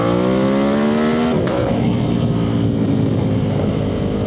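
A Ducati Monster 1200 S roars through an unbaffled SE Project slip-on exhaust, very loud and close. The engine note climbs, drops sharply as the throttle closes, then settles into a steady, gruff rumble.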